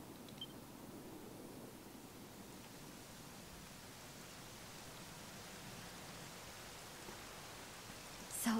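Rain falls in the video game Dragon Quest XI S, a soft, even hiss of steady downpour throughout with no voices.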